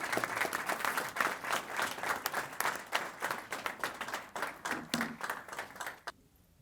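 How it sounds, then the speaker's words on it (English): Audience applause at a Detroit police and fire recognition ceremony, lively clapping with some rhythmic, synchronized bursts that carries on steadily before cutting off abruptly near the end. "Let's give this team another round of applause"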